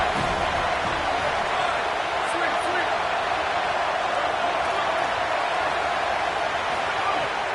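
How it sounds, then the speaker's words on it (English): A video game stadium crowd at an Alabama Crimson Tide college football game roars on third down, a dense, continuous wash of cheering that stays loud and unbroken throughout. "The Tide crowd rolling noise down onto Saban Field on third down."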